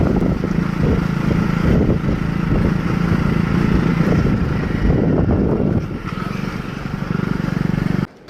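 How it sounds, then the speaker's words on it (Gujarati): A motorcycle engine drones steadily at low speed on a rough, damaged road, rumbling and slightly uneven, with wind buffeting the microphone and no talking. "બાઇક ધીમે ધીમે ચાલશે કેમ કે રસ્તો ખરાબ છે"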